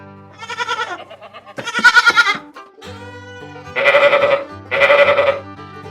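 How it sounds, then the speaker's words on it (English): Sheep bleating on a farm, several separate calls in a row, loud and close, with harmonic wavering bleats and short pauses between them, no talking. "It's a sheep."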